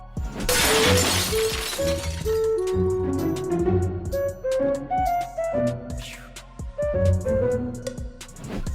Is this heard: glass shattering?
yes